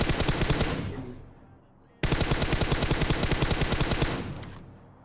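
Automatic gunfire rattles in PUBG Mobile: two long, loud rapid-fire bursts, each fading away, with a brief pause between them.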